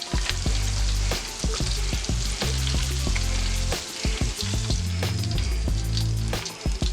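A batch of food frying in hot oil until golden brown, loud continuous sizzling and crackling close up, with frequent clinks and scrapes from stirring utensils throughout.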